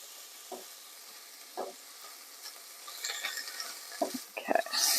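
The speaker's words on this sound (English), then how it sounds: "while this is frying away" Bacon fries in a pan in a home kitchen for a quiche Lorraine, a soft steady sizzle broken by a few spatula stirs and clinks of cookware that grow louder toward the end.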